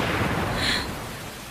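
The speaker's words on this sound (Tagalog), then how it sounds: "Ayaw tumigil nung kidlat." Steady heavy rain hisses throughout a storm, with a dull rolling swell of thunder midway as lightning keeps flashing; the downpour stays loud and close.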